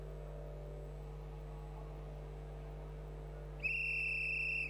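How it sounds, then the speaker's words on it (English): After a low steady hum, a single shrill referee whistle blast at an MMA bout starts near the end and holds steadily, loud and piercing. "The whistle blows."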